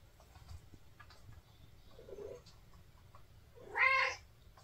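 A cat lets out a soft, low meow and then a louder, clearer meow a moment later, close by in a quiet indoor room with faint ticking in the background.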